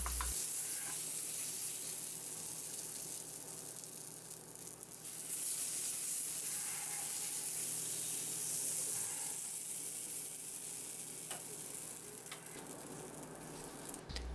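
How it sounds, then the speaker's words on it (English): Cornbread batter going into a hot cast iron cornbread pan, a strong sustained sizzle with a broad hissing texture that swells and eases over several seconds, with no voices over it. "We set the first pan aside and add the batter to the second pan."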